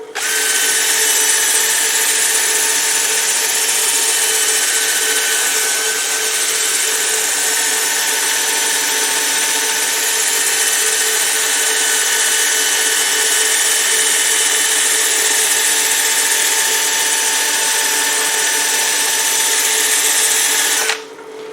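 A wooden bowl spins on a lathe while sanding paper is held against it between grits of 100 and 150, making a steady, loud, unbroken whirring drone that runs without a break and then cuts off at the end.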